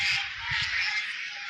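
Domestic geese at a deer park calling continuously, a dense, harsh outdoor chorus of overlapping honks at steady loudness with faint low rumble beneath.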